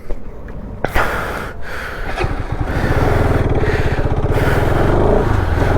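A Bajaj Pulsar RS 200 motorcycle pulls away while being ridden, its engine note climbing into a steady, close, pulsing drone after a brief bump and wind rush.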